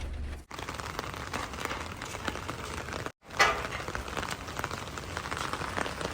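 Steady rain falls on an outdoor surface, a dense continuous patter of drops heard close and fairly loud, broken by two brief gaps of near silence.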